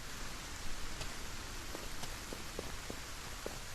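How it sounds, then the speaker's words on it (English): Steady rain comes down in the video game Solarpunk, a soft, even hiss with a few scattered drop ticks and no talking. "Once again, the rain comes down."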